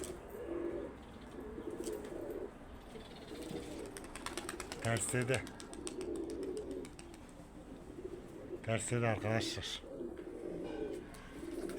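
Pigeon cooing in soft repeated low phrases at a moderate distance, with someone talking intermittently over the calls.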